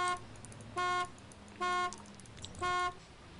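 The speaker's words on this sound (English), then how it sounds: "I'll just honk, you can probably hear me." A car horn in the video game Arma II DayZ honks three times in even, separated bursts, each a short buzzy electronic toot over a faint low engine rumble.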